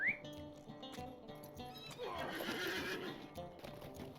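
A horse in the Lord of the Rings Online video game whinnies loudly near the start, with clip-clopping hooves continuing underneath over a low ambient game soundscape.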